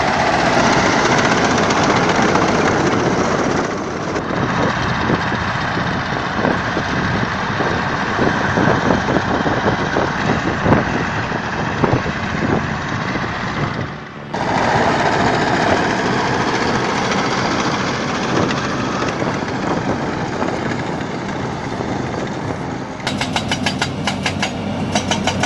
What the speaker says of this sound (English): This Soviet-built harvester from Brigade Avantgarde devours the earth with brutal efficiency.